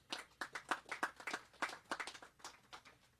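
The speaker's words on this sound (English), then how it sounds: "one more time a round of applause for the people of Jasper and Dyke" A small audience claps at a contract signing ceremony, with distinct individual hand claps in an uneven, fairly sparse rhythm that is moderately faint and stays steady for several seconds without talk.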